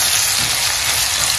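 Onions fry in coconut oil with curry powder, giving a loud, dense sizzle that holds steady from start to finish with no voices over it.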